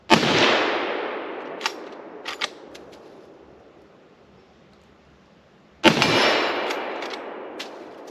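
A Savage 1899 lever-action rifle chambered in 30-30 Winchester fires two loud, sharp shots at an outdoor range, about six seconds apart. Each report is followed by a long, fading echo, with faint clicks and clatter in between.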